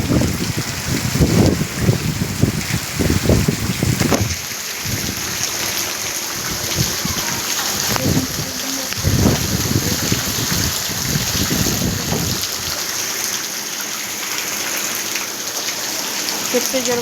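Heavy rain pours steadily during a flood, a dense, continuous hiss of water striking surfaces with gusty rumbles underneath and voices talking over the first few seconds.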